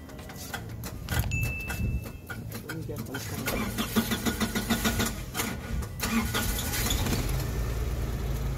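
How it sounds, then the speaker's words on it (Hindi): A 2003 Suzuki Cultus car engine cranks and starts after the ignition is switched off and on, settling into a steady idle while people talk over it. "गाड़ी स्टार्ट हुई है और ये पावर ऑन हो गया।"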